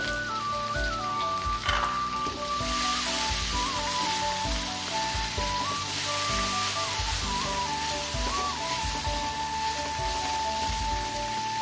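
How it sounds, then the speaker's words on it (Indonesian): Garlic and chili stir-frying in a pan for a cucumber and egg dish, giving a steady, dense sizzle that swells after a few seconds and stays loud, with a faint tonal hum and no talking. "Ini kita oseng dulu, kita tumis dulu bawang putihnya. Kita masukkan cabenya juga."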